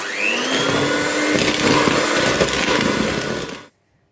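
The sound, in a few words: mixer whipping egg whites while sugar is added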